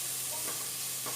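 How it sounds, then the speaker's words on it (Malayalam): Ingredients sautéed with a pinch of salt in a pan for spicy Kerala-style beef curry give a soft, steady sizzle with light stirring scrapes, close and continuous, with no talking. "നമ്മൾ വഴറ്റുമ്പോൾ അല്പം ഉപ്പ് ചേർത്ത് വഴറ്റുകയാണെങ്കിൽ അത് പെട്ടെന്ന് വഴന്ന് കിട്ടും"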